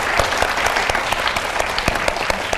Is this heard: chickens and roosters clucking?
no